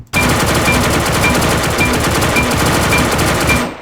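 M16A2 Calima rifle firing on full auto in the A.V.A video game, heard as one loud, rapid, unbroken burst of evenly spaced shots lasting several seconds, then a sudden stop.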